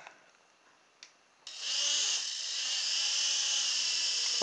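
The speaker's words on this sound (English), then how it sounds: "The tail rotor's actually spinning." Silverlit toy helicopter with its tail rotor spinning, a faint click and tap, then a sudden high electric whine that starts and holds steady close to the microphone.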